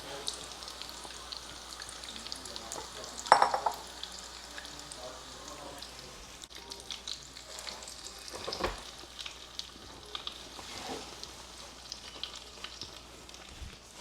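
Egg-coated food frying in a lot of oil, a soft continuous sizzle and crackle with occasional louder pops, faint throughout with brief background voices.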